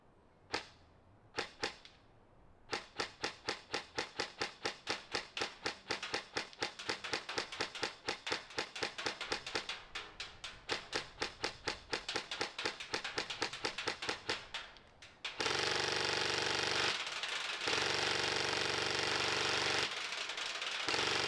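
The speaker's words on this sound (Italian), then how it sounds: "Ma ora godetevi la prova di tiro, prima proveremo questo MK18 e poi questo MK18 mod 0." Two airsoft MK18 rifles, an MK18 and an MK18 Mod 0, test firing: a few single shots, then a long rapid burst of sharp, evenly spaced mechanical clacks, followed by a steady loud hiss.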